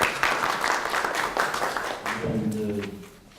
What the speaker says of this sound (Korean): 네, 박수 좀 쳐주시죠.